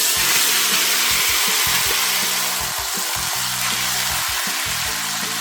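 Wheat sautéing in ghee for Kerala-style wheat pradhaman, a steady bright sizzle heard close and loud throughout with no talk, over a low intermittent humming drone from a nearby appliance.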